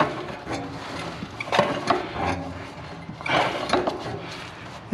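A wrench tightens a water heater flex connector with short, intermittent metallic clicks and creaks, close up, in separate turns with quiet gaps between them.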